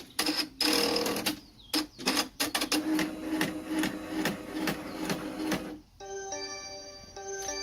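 A 10-needle embroidery machine stitches an Easter in-the-hoop design, its loud rapid mechanical clatter pausing briefly mid-run, then stopping for a color change as a steady electronic tone and beeps take over.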